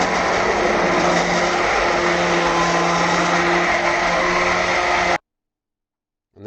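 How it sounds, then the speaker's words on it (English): A stick blender whirs loudly and steadily for about five seconds while blending carrot and coriander soup, then cuts off abruptly into silence. "then use my stick blender"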